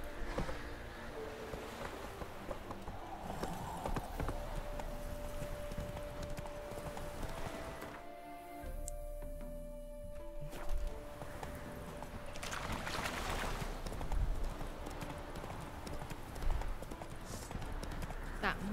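Horse hooves clip-clop in a steady gallop in The Witcher 3 game, heard at moderate level under game music and ambience, with some talk and a brief quieter stretch midway.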